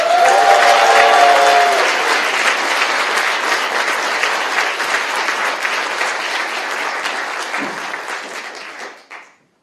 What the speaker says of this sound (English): So a huge round of applause for our first speaker of this evening, Pablo van der Lucht.